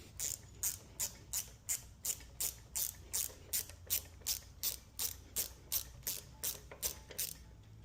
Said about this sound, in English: All right, so we've removed our banjo bolt.